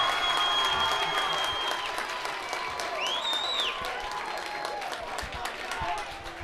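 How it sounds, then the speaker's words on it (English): Crowd of Curley fans at an MIAA playoff varsity baseball game cheering and applauding loudly and steadily, with shouts and whistles rising over sustained clapping throughout. "this crowd from Curley, you got to give it credit. They have been loud, they have been proud"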